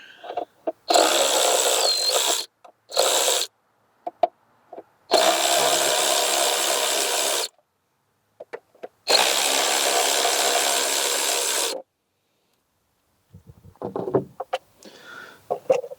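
A power tool, likely an impact driver or ratchet, spins out 10 mm bolts from an engine cover on a 2.4-liter Mitsubishi Outlander Sport in several loud, close bursts of whirring with quiet pauses and light clinks between them.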